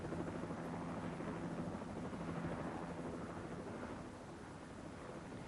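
A mountain rescue helicopter thumps faint and distant with a steady rotor drone, blended with wind noise and no voices.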